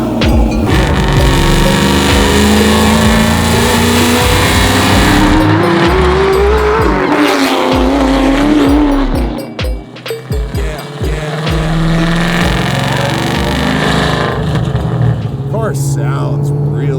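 A supercharged 1000hp Terminator Cobra does a tire burnout, its engine roaring loud and continuous while the tires squeal and skid, with a brief dip in the revs partway through.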